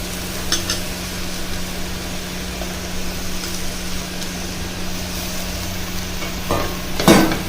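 Ground tomato being stirred into egg gravy in a frying pan, a steady soft sizzle with faint scraping throughout and a brief louder clatter near the end.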